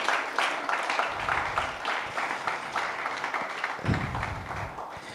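An audience at a sales conference claps together, a dense continuous patter of many hands at moderate distance, steady for several seconds with a brief louder swell near the end.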